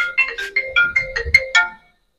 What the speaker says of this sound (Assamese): ফোন উঠাচোন